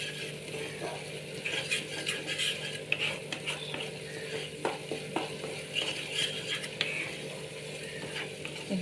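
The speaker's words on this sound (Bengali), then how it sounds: "এবার এটাকে ভালো করে কষাবো যতক্ষণ না তেল বেরোবে" Spice paste being stirred and fried in oil until the oil separates, giving a steady close sizzle with repeated scraping spoon strokes and light clinks, no talking.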